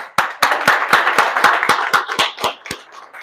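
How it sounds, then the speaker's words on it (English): An audience gives a round of applause for a speaker at an event: a dozen or so sharp, distinct hand claps in a steady rhythm, close and loud at first, then thinning and fading out. "Let's pause and give her a round of applause."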